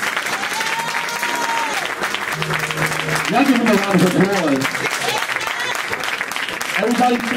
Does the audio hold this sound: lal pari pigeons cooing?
no